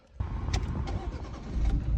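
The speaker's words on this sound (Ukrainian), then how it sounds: "Все, заводиться машинка з півоберту" A Volvo V50 with 191,000 km on it cranks and catches after a brief quiet start, then settles into a steady, close idle with a slight rise in revs.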